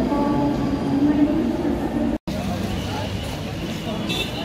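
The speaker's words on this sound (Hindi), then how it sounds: "बॉम्बे की लोकल ट्रेन" A steady, broadband rumble of a passing Mumbai local train fills the clip, loud and continuous with a brief dropout midway, with faint voices in the background.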